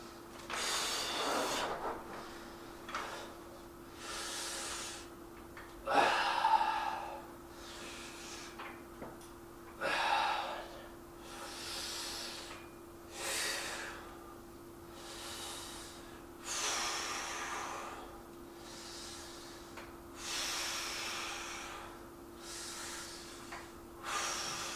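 Heavy breathing during an arms and shoulders workout, with loud exhalations and snorting breaths close to the microphone in repeated bursts every few seconds over a faint steady hum.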